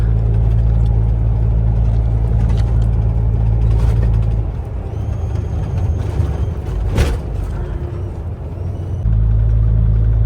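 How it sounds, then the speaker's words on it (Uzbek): A car cruising steadily at about 75 km/h on a long highway before dawn, its loud, continuous engine and road drone easing slightly midway before swelling back to full strength. "Cruise kontrolda turibdi mashina."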